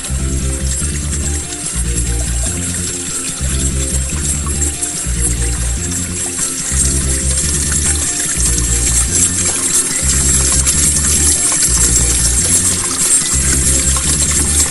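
Water keeps running from a bog filter on a frozen garden pond in winter, a steady close trickle over a low, regularly pulsing pump-like rumble with no voices.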